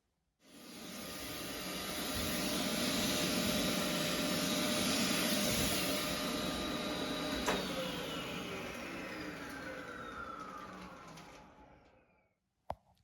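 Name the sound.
vacuuming loose material off model railway embankment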